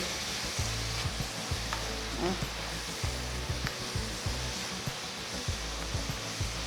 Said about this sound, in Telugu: సన్నగా తరిగిన రెండు ఉల్లిపాయలు వేసి గోల్డెన్ బ్రౌన్ కలర్లో వచ్చేంత వరకు కలుపుకోవాలి